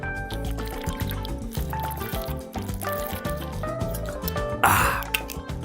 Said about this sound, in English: so let me take a drink of water first